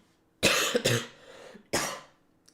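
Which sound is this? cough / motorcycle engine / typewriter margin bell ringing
cough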